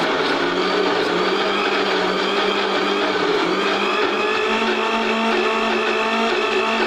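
A kitchen grinder whirs steadily while blending homemade egg mayonnaise, a dense, continuous motor drone with a thick churning texture, loud and close without any pause.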